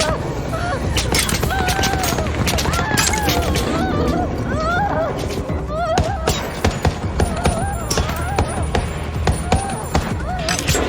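Rapid bursts of gunfire crack through a sci-fi short-film action scene, dense and loud, layered over music and voices talking.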